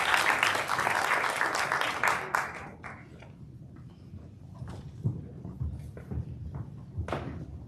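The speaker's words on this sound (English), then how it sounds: "Let's have a round of applause for each other" Audience applause at a county spelling bee, dense and close at first, then thinning into scattered claps and shuffling footsteps as it fades.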